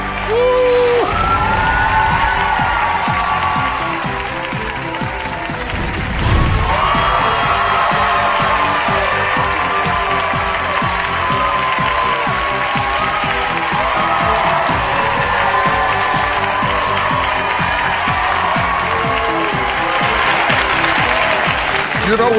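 A crowd cheers and applauds continuously, with whoops and shouts rising over the clapping, loud and sustained throughout, with some voices mixed in.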